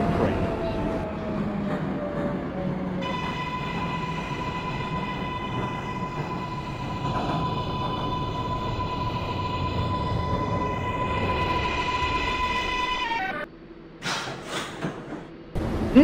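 An R188 subway train on the 7 express in the OpenBVE simulator rumbles steadily while its electric motors sustain a high whine that holds, then abruptly cuts off. A few brief clanks follow near the end.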